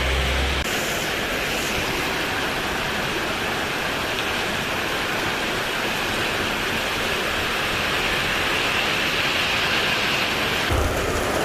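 Heavy rain pours steadily in a dense, continuous roar on a night road trip in Kerala in January, with the low rumble of thunder blending into the downpour throughout.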